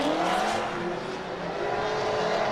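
A pink and black Nissan 350Z drift car holds a loud, sustained engine roar at competition drifting, steady high revs with a hint of tire noise, no talking.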